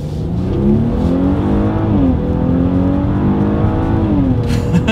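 A 2021 Maserati Levante with its base engine pulls hard up to speed merging onto a highway, a loud engine note climbing through two or three gear changes with brief dips between, no talk.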